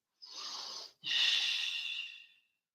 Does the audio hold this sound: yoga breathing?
yes